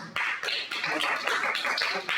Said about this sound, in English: please, if you would, withhold clapping